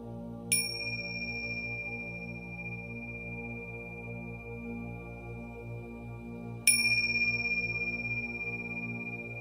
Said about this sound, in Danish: Og lyt til lyden af klokken,